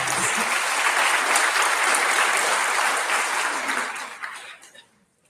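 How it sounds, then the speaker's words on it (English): Audience applause at a middle school graduation ceremony, a dense sustained wash of clapping from a large crowd that holds steady and then tapers off to near silence at the end. "Please give a round of applause to our"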